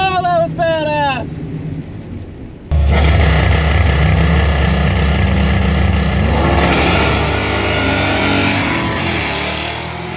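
A car launches hard down the Kil-Kare Dragway drag strip with heavy wheel spin, its engine roaring loud and sustained after a brief excited voice at the start.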